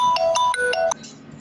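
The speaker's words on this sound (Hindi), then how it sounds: "मेरा एक फ़ोन आ गया था" Melodic phone ringtone for an incoming call: a bright sequence of electronic tones repeating in quick rhythmic phrases, loud and close, then cutting off into quiet room tone.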